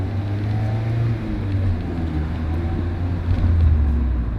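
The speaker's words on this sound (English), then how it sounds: "Now just sitting there idling, you can see." A quiet car engine idles steadily with a low, even hum and no revving, close by and alone without talk.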